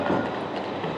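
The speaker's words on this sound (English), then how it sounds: "Oh, hold on, tram." A tram rolls past on an Edinburgh street as a steady rumbling hum with faint rail clatter, close and fairly loud.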